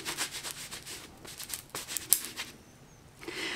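A skin product rubbed firmly onto a bare arm makes a soft, close, scratchy rubbing that rises and falls in uneven strokes, with no talking.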